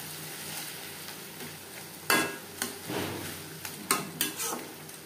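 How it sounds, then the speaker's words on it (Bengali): Tomatoes stirred into hot oil in a pan for a Bengali fish-fat chorchori, steady soft sizzling broken by several sharp spoon scrapes and taps against the pan, close by with no talking. "তেলের সাথে টমেটো বেশ ভালো করে মিক্স করে দেব।"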